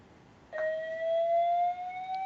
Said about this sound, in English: We also have Guinness World Records for the longest fire alarm in the history of the world today